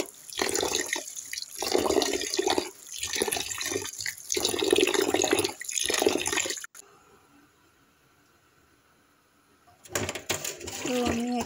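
Grains of thick rice are washed by hand in water, with bursts of sloshing and splashing close by, then a lull of near silence before the swishing starts again.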